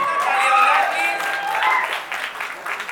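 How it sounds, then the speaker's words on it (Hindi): A studio audience applauds steadily at a televised Hindi entertainment show, with steady clapping over sustained tonal background sound for about three seconds. "सब मम्मियों के लिए बहुत जोरदार तालियां"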